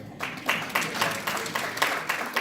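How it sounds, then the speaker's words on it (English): Soft applause from an audience at a Huntington Wall of Fame acceptance speech, a patter of clapping with small swells, fairly distant and not very loud. "will you raise your hands and clap for yourselves?"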